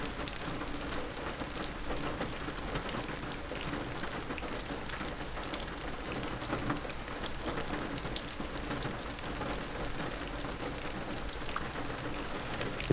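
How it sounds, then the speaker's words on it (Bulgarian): Rain falling steadily at the seaside, a dense even hiss of drops on surfaces that holds constant and fairly quiet throughout with no voices. "вали за кратко, после слънце."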